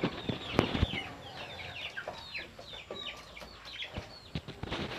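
Four three-month-old rooster chickens cluck and chirp while being fed, a busy run of short calls close by, with scattered pecks and bumps and some wing flapping amid the cackling.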